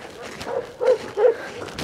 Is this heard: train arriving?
no